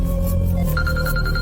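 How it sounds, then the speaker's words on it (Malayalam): A mobile phone rings in a home setting, a steady electronic ringtone pulsing in short repeated bursts at close range, with no one speaking over it. "മനോജിന്റെ ഫോണിൽ ഇത് ആരായിരിക്കും വിളിക്കുന്നത്?"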